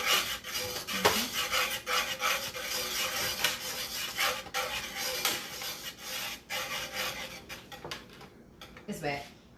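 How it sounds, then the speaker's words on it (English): A whisk scrapes and rubs steadily through a shrimp Alfredo sauce in a metal pot, a busy continuous rasping at close range, with people talking over it in a home kitchen. "I'm going to just continue to keep whisking."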